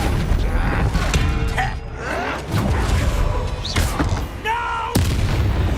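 Bombarda spell blasts in Hogwarts Legacy go off one after another, loud booming bursts mixed with spell-casting effects, with a voice calling out spell names.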